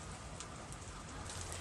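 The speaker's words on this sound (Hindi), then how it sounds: "लगातार कई दिनों से तेज बारिश जारी है" Heavy monsoon rain falls in Mumbai as a steady, dense broadband wash with no pauses, close and loud throughout.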